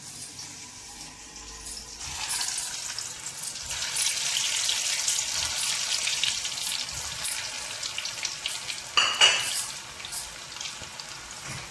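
Potato cheese balls deep frying in hot oil on a low flame make a bubbling, hissing sizzle that starts quieter and grows fuller after a couple of seconds, then holds steady with a brief sharper flare near the end.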